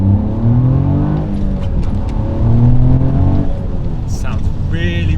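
Toyota GR Yaris engine fitted with a full exhaust downpipe and sports cats, giving a steady engine hum whose tone rises and falls while a person talks over it, with some background rain noise.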